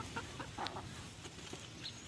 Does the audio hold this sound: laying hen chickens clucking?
yes